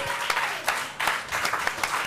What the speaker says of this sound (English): You can get a Most High hand clap for that.